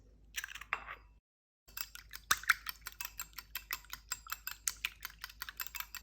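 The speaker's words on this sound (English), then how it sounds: "We're going to take 2 eggs and we're going to whisk these eggs." Two eggs get whisked in a bowl with a brisk, even run of light clicking taps from the whisk, close up and quiet, after a short pause.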